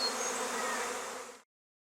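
Honey bees buzz in a dense, steady drone from a full hive, close and continuous, before the sound cuts off abruptly.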